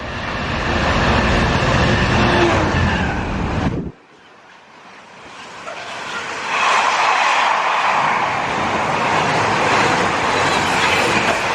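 A train roars past close by at Milton Keynes station with loud rushing rumble, cuts off abruptly, then a second wave of rolling rail noise builds and continues steadily.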